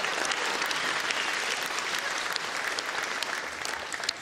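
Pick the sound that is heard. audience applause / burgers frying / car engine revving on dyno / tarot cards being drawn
audience applause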